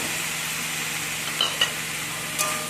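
Boiled potato is stirred into a banana flower filling in a hot pan, giving a steady sizzle and scraping stir with a few brief clinks and no talking.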